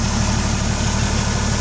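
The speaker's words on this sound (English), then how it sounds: "It's got a smooth running six-cylinder engine," A Jeep CJ-5's six-cylinder engine idles steadily close by, a low, even rumble with a smooth rhythmic pulse and no voices over it.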